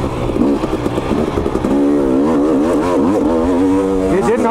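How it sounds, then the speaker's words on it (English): A KTM 250 XC two-stroke dirt bike engine runs close and loud, its pitch swinging up and down through several revs over a steady idle. "I love the way this bike runs"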